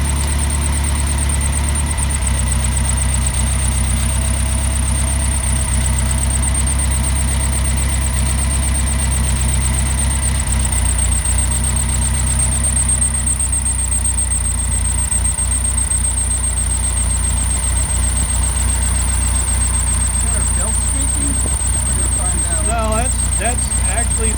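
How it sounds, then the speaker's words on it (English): A Mercedes 190SL engine runs on a test stand with its twin-barrel carburetors, a loud steady idle with a deep low drone and a constant intake hiss, unbroken for the whole stretch. "That's actually the intake of the carburetor."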